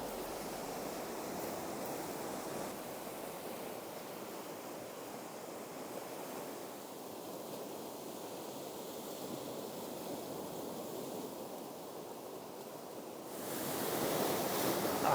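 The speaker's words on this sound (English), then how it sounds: "The waves are coming in, crashing on the rocks, and then the waves are retreating" Waves wash in and crash on flat shoreline rocks at the Hölick nature reserve in Sweden, a continuous broadband surf roar with wind, swelling louder near the end, no voices.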